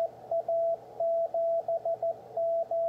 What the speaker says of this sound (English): So there's the beacon.